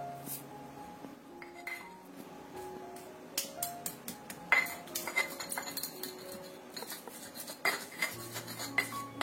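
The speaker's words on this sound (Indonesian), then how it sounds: "Ini kita ulek dulu sampai halus" Pepper, candlenut, garlic and shallot ground in a mortar with a pestle, giving steady faint clinks, taps and scraping knocks in an irregular rhythm, close and quiet with no talk over it.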